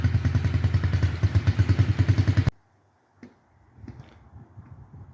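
A Yamaha TTR-50 dirt bike, freshly top-end rebuilt, runs close by with a steady, pulsing engine drone for about two and a half seconds, then cuts off abruptly, leaving quiet background with a few faint knocks and clatters.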